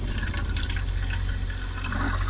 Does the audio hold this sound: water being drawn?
yes